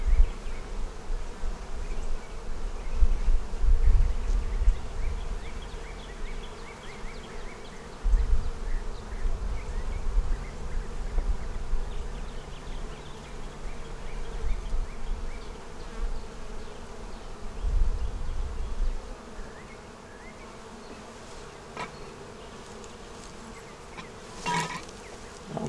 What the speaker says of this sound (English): Little new bees walking around.